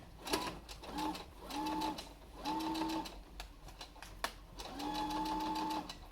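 A sewing machine stitches a three-layer cloth face mask in several short runs, its steady whirring hum stopping and restarting between bursts, with light clicks and handling noises in the gaps.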